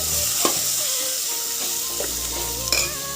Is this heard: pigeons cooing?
no